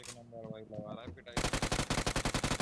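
Rapid automatic gunfire from the BGMI (PUBG) mobile game rattles off in a quick, evenly spaced burst of about a dozen loud shots, following a moment of excited talking.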